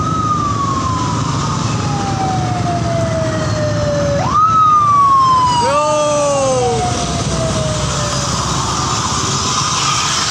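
A police siren wails across a busy street in Indonesia, sweeping downward in a long falling tone, then breaking into a couple of short rising whoops over steady traffic rumble.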